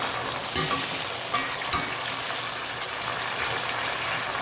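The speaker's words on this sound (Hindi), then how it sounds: "अब चिकन को बस 2 मिनट के लिए मैं इसमें भूनूंगी" Boiled chicken fries with onions in a pan, giving a steady close sizzle with a few sharp stirring clinks, no talking.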